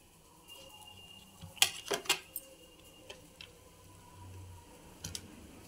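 Cutlery cutting into a noodle egg tikka: a few sharp clinks and scrapes on a plate clustered mid-clip, then a couple of fainter taps later, close and quiet.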